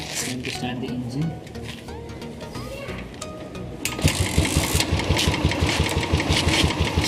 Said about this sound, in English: Time to start the engine.